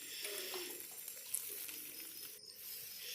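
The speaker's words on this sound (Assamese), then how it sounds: "পিয়াজখিনি ভালদৰে লৰাই অলপ টাইম ভাজি থাকিম" Onions and vegetables stir-frying in oil in a wok, a soft continuous sizzle with faint scraping stirs, close and fairly quiet, no talking.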